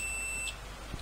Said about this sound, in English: Let's try the other channel, so we should have a beep here.